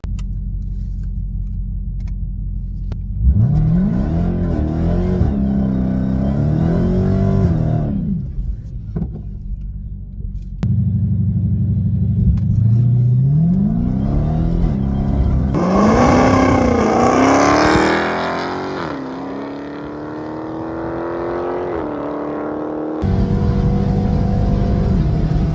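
Race car on an 804 m drag run in Sweden, pulling away loudly from the start as the engine revs rise and drop through several gear changes before steadying, with a roaring rumble throughout and no speech.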